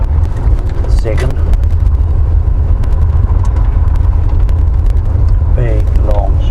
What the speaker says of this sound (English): Big, long stroke motor.